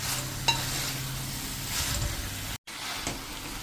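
Sponge gourd sabji being stirred and cooked in a pan, a steady close sizzle with a few utensil scrapes and a brief dropout near the end, no talking.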